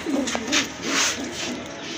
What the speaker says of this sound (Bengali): এটা হচ্ছে আপনার মাদি কবুতর।